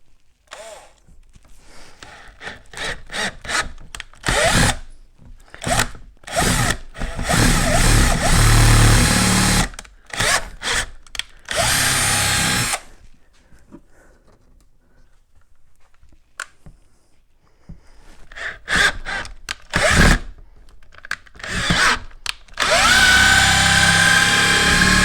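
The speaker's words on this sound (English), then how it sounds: "you're probably better off just drilling your 3/8 hole initially rather than these pilot holes" A power drill drilling a 3/8-inch hole for motorcycle saddlebags on an Indian Scout Sixty whirs in repeated bursts, starting and stopping several times up close, with short quiet gaps between runs and no talking.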